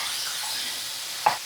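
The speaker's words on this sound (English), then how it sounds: "That's the sounds you want to hear when you're frying something, cooking something." Meat for beef stroganoff sizzles in a pan, a soft steady hiss and crackle with one brief sharp scrape or pop near the end.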